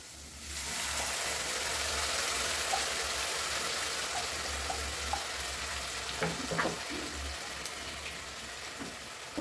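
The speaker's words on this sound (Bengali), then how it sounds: "এবার আমি বাটা মশলাটা দিয়ে দেবো।" Ground garlic, ginger and onion paste dropped onto fried onions in hot oil, bursting into a loud steady sizzle that holds throughout, with occasional stirring clicks close by.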